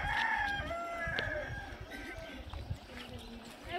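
A rooster crows loudly nearby at the start in the hills of Cherrapunji, Meghalaya, followed by hen clucks and faint talk in the background.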